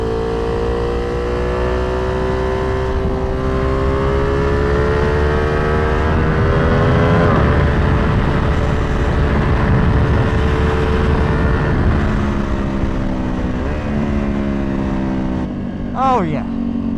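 A tuned Ducati Panigale V2 motorcycle rides on a street. Its engine gives a sustained, close drone that shifts pitch as the revs rise and fall, with wind noise over it.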